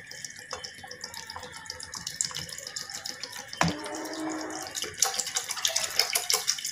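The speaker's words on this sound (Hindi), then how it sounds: "और ये हम पानी डालेंगे।" Water streams from a tap into a pan of soaked moong dal, a steady splashing pour that grows louder and brighter partway through as the pan fills.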